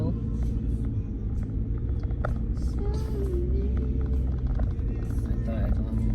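Busy night traffic along Session Road in Baguio City, a steady low engine rumble of passing cars with a brief horn-like tone, while people talk nearby throughout.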